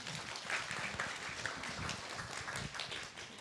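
Audience applause at a civic public forum in Gwangju, steady moderate clapping from a seated crowd filling the moment, fairly distant and without speech.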